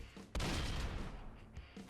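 A sudden burst of dense, rattling gunfire erupts in the Roblox game Dead Rails and continues as a noisy barrage, with booming low rumbles underneath.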